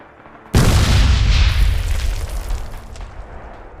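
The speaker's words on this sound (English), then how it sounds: "In this case you can see that the guy is planting a satchel charge." A satchel charge detonates at a bunker in the Red Orchestra 2 video game, one sudden loud blast followed by a long rumbling roar that slowly fades.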